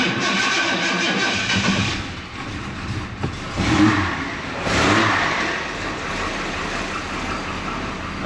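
A Daimler with an XK engine, treated with head gasket sealant and still carrying a slight misfire, revs up in a few swelling bursts and then settles back, heard at moderate distance with some uneven roughness.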